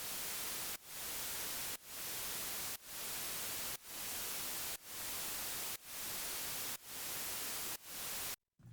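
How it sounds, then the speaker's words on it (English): Broadband static noise run through a compressor with a fast release, ducking sharply about once a second and swelling back up each time in a steady pumping rhythm, loud and alone, then cutting off briefly near the end. "we can just kind of hear the noise ducking down and then pumping back up"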